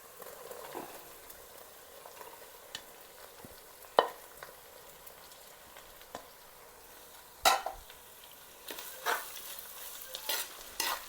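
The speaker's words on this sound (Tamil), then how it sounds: "நல்லா மிக்ஸ் பண்ணனும்" Soursop (mullu seetha) fry with garlic is stirred in a pan: intermittent spoon scrapes and clicks sound over a faint, steady sizzle, with no talk.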